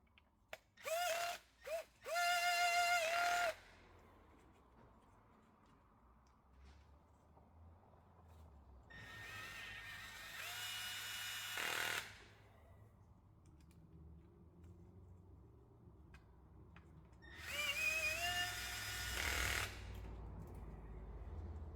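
Low-torque power driver running bolts into a Peugeot 1.2 engine during an oil pressure repair: a couple of quick bursts, then three longer whirring runs with a ratcheting clutch rattle, close and clear, separated by quiet pauses without talk.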